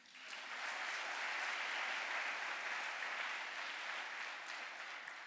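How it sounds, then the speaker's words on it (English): Applause from a large lecture audience at the Ruskin Lecture with author John Green, a smooth, sustained roar of many hands clapping that is heard from a distance and fades gently near the close. "give yourselves a round of applause"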